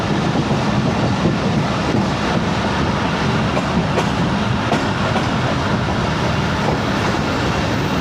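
Badar Express train at Shahdara Bagh junction, a steady loud rumble of rolling cars with faint rhythmic clatter, continuous throughout.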